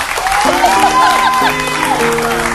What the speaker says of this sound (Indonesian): Tepuk tangan dulu buat pasangan ini berdua